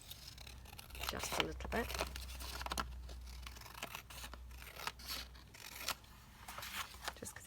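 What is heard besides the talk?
trimming paper with scissors for a paper doll cover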